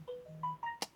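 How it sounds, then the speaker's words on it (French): A phone ringtone from a father's telephone heard during a Roblox hide-and-seek game, a short run of electronic melodic beeps at changing pitches ending with a sharp click, faint and alone. "ça, c'est le téléphone de mon père"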